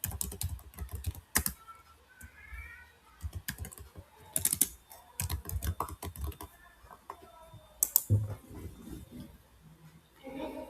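A title being typed on a computer keyboard, bursts of close, crisp key clicks with louder thumps from heavier keys and short pauses between them, alone with no talk.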